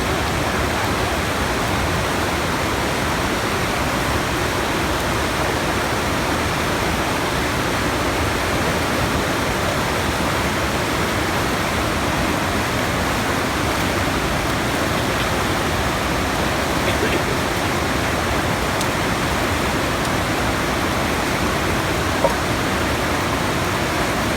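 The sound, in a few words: Bidadari waterfall in Aceh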